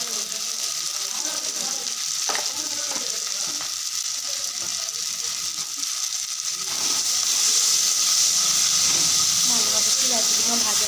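Onions fry in hot oil in a pan, a steady close sizzle and hiss with occasional stirring scrapes, growing a little louder toward the end.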